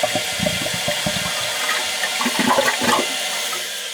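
A running toilet flushing and refilling, water rushing loudly and steadily with gurgles and splashes throughout, close by with no voices.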